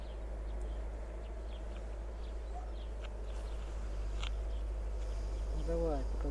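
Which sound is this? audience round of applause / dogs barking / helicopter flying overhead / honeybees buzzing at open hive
honeybees buzzing at open hive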